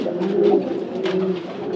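Pigeons in a racing pigeon loft coo steadily and close by, soft rolling calls repeating over a quiet background with no talking.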